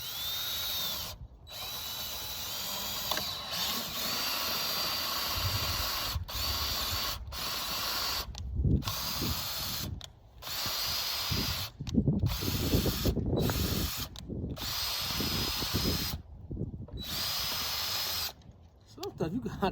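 A power drill drives bolts while a steel hostage reactive shooting target is assembled, with repeated short whirring and ratcheting bursts, some loud and close, between quieter stretches of handling noise.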